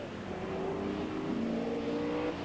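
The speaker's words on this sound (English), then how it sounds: "they're accelerating now off to the little wiggle before the mountain" TVR Tuscan Challenge race cars at a 1994 race accelerate with a loud, steady engine roar whose pitch climbs continuously throughout.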